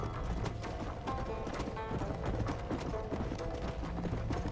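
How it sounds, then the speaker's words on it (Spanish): Horse hooves clip-clopping steadily in a video game set in Mexico, a continuous rhythmic stream of hoofbeats with creaking mechanical tack noise, moderately loud throughout. "qué difícil es manejar este caballo"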